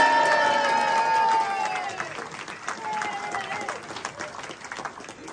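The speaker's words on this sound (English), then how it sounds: "Now I expect a good clapping hand from you." Jazz festival audience applauding and cheering at an orchestra concert, a dense wash of clapping that is loud at first then eases off, with crowd voices and some leftover instrument tones underneath.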